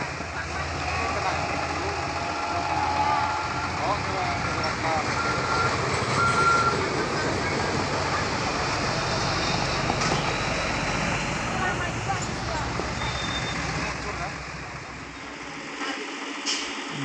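A crane truck moves during the recovery of an overturned cargo truck loaded with parcels near Bukit Kodok. Steady reversing beeps repeat over a continuous diesel engine drone and outdoor road noise.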